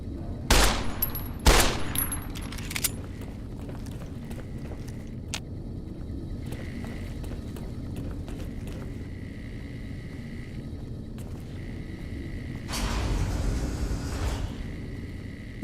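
A few loud sharp gunshots ring out near the start at a shooting range in Fallout New Vegas, then the scene settles into a low steady hum, with a burst of rougher noise near the end.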